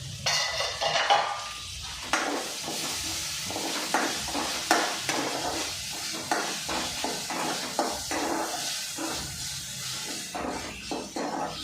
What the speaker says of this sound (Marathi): पण टोमॅटो पण घालूया स्लाइस केलेलं